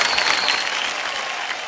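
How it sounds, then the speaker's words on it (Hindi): A studio audience on a televised quiz show applauds loudly and densely in a brief, continuous burst of clapping, with no talk over it. "तालियों के साथ आपका स्वागत।"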